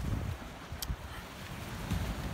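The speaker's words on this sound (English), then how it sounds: "It's a bit windy today." Wind blows steadily on the Anglesey coast near Trearddur Bay and Ravenspoint cliffs, a low rushing buffet with microphone gusts, fairly faint overall.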